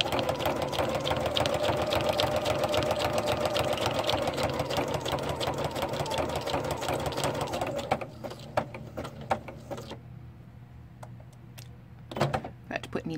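A sewing machine with an open foot stitches steadily along the edge of a card, a dense continuous whir for most of the span that breaks into short stops and starts near the end.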